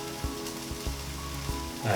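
Vegan pancake batter sizzles and crackles steadily in a hot frying pan, with a few low thumps and a faint tonal hum underneath.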